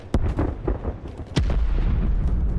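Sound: sniper rifle gunfire in video game Call of Duty Cold War

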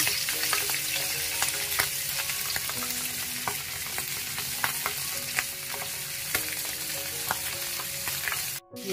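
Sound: fish frying in oil

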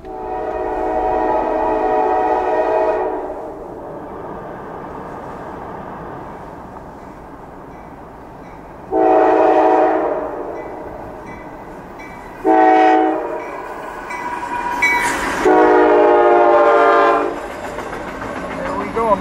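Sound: freight train passing level crossing, sounding horn

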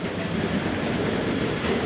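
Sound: train departing from station

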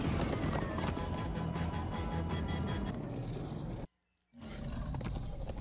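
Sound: horses galloping in Minecraft Story Mode video game

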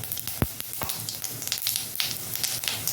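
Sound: whole cumin seeds sizzling in oil for tempering mung dal

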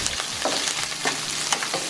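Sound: red snapper fish fillet frying in a pan

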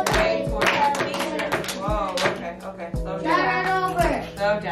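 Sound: class clapping along while reading

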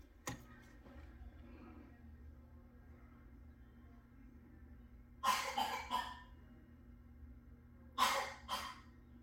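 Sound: young child coughing in another room

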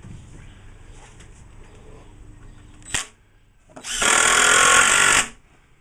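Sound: power drill driving screws into a beehive body

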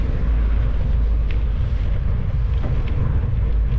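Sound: wind blowing into the microphone

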